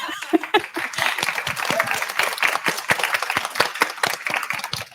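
Audience at an in-person panel event applauds with sharp, uneven hand claps, a moderately sized crowd clapping steadily and close by for several seconds.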